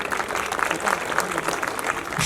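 Audience applause at a stage storytelling performance, a steady dense wash of many hands clapping continuously throughout, moderately loud with no talk over it.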